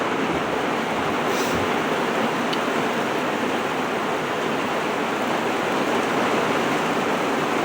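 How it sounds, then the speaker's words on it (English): Dense, unbroken hiss of heavy rain drumming on the tin roof of a woodworking shop, loud and constant throughout. "Definitely raining pretty hard now."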